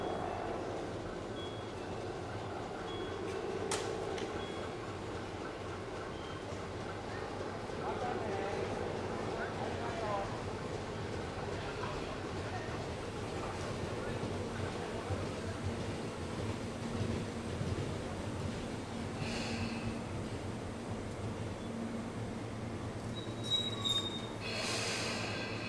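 A local train on a Japanese commuter line pulls into Higashi-Mukōjima station during special service for the Sumida River fireworks festival, a low rumbling roll with faint wheel squeal and platform bustle, a voice audible beneath.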